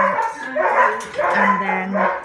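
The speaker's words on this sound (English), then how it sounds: "So then we've just got the dogs being harnessed up, ready to go out." Several dogs bark and yip excitedly in a kennel while being harnessed up to go out, with repeated overlapping barks and a whimpering undertone close by.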